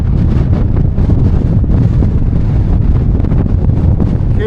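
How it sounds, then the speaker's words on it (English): Strong wind sweeps the hilltop of Kinder Scout in the Peak District, battering the microphone with loud, heavy rumbling gusts that surge and ease in waves, close and harsh, with no talking heard. "Yeah, it's really windy up here."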